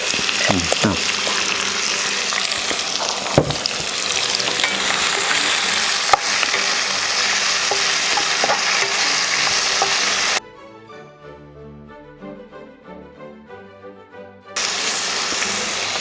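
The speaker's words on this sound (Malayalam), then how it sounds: "നമ്മളാ മിക്സ് ചെയ്ത് വെച്ച ചെമ്മീനും എല്ലാം കൂടെ കൂടി തേങ്ങാക്കൊത്തിലേക്ക് ഇട്ടു." Prawn mixture frying with coconut pieces, sizzling steadily and scraped and stirred in the pan, with a few sharp knocks. The sizzle is loud and close, drops out for a few seconds near the end, then returns.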